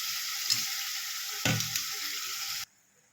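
Country chicken going into a hot pan and being stirred, a steady bright sizzle with a couple of soft thuds and scrapes, cutting off abruptly near the end.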